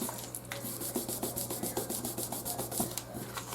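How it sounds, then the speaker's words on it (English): Rhythmic rubbing strokes on a glued milk carton box, a steady series of quick scuffing passes close up and fairly quiet over a low background hum. "Just trying to rub it to get that glue to dry."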